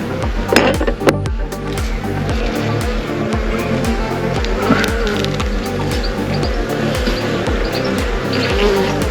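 Honey bees buzzing loudly and continuously during a hive inspection of a new colony, a dense close drone with rhythmic pulsing and occasional knocks and handling noises of frames, no talking.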